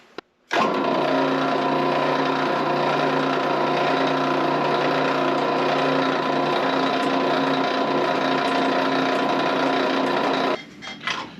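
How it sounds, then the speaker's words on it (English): A motor starts and whirs steadily for about ten seconds with a grinding hum of a drill press boring through material, then winds down. "throw that in the drill press, we'll drill a hole"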